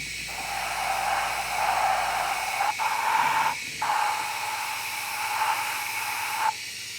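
Paint mist hisses steadily from an airbrush or spray nozzle while a base coat goes onto a custom quarter-scale figure, with a few short breaks in the spraying.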